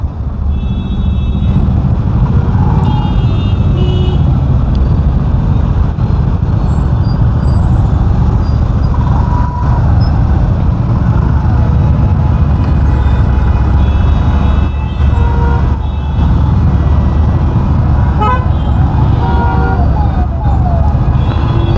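Dense road traffic on a rainy morning as an escort convoy passes, a continuous loud rumble of engines and tyres with occasional higher vehicle tones rising above the steady roar.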